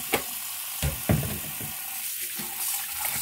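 Tap water runs steadily into a sink while freshly picked garden leaves, previously boiled, are rinsed under cold water, with occasional soft splashes and clinks close by.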